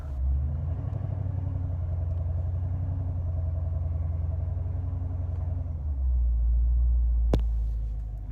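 Chevrolet C7 Corvette engine running with the hood open while launch control is engaged, a steady, close, low idle rumble that swells into a deeper surge near the end, broken by one sharp click.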